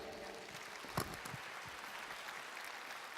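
Audience applause at a business leadership conference, rather faint and distant, with one sharper louder clap or knock near the start over a steady wash of clapping.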